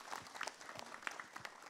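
Scattered applause from a small audience at an Islamic talk event, a few distinct claps rising and falling over about two seconds, fairly faint and thin.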